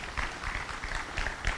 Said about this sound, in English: if we can give Gwen a round of applause.